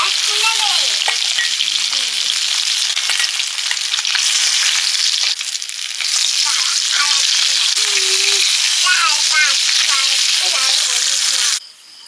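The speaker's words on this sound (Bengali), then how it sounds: "কই মাছগুলো হালকা ভেজে তুলে নিচ্ছি" Koi fish fry lightly in oil, a loud, close, continuous sizzle and crackle throughout, with faint chirping sounds in the background, ending abruptly.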